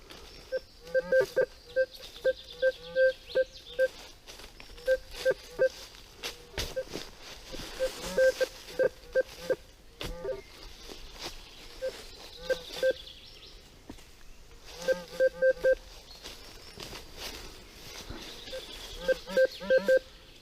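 A metal detector gives repeated high electronic beeping tones in short bursts, on and off over twenty seconds, with rustling, footsteps and occasional voices outdoors.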